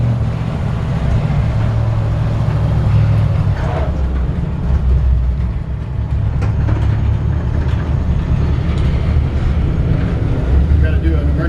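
A 1950 Ford F-1 panel truck fitted with wider tires drives along, its engine and road rumble a constant heavy low drone with rattles throughout, loud and close from inside the cab.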